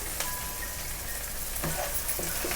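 Ginger garlic paste frying in a pan for bagara rice, a steady broadband sizzle filling the whole stretch with a few faint utensil clinks near the end.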